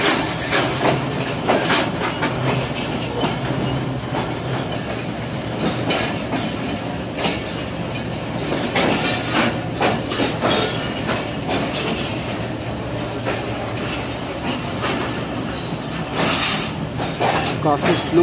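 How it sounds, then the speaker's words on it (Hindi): A Tezgam passenger train rolling slowly into Rohri Junction platform 2, a steady loud rumble of wheels with clattering and occasional metallic squeals throughout. "काफ़ी स्लो अराइव कर रही है हमारी ट्रेन रोड़ी जंक्शन के प्लेटफॉर्म नंबर 2 पर"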